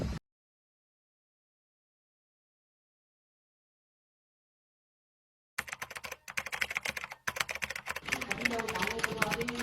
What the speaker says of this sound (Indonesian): tapi apakah ada alat ketik di sini?